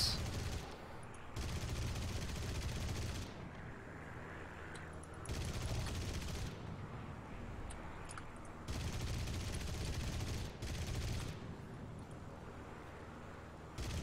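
Aircraft cannons fire at a Wellington bomber in War Thunder, coming as several long sustained bursts of rapid gunfire separated by short gaps, loud and continuous, with engine drone underneath and no talk.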